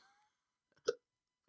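A single hiccup pops out sharply in a quiet room, brief and fairly close, preceded by a faint trailing voice fragment.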